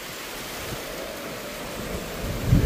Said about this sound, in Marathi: आई एवढं गंध वारावादळ सुरू आहे आणि पाऊस पण जोरात पडतोय